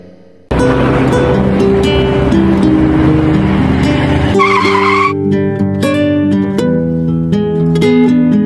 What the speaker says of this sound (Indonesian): Mobil siapa nih? Kok berhenti di sini?